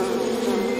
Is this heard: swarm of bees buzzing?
yes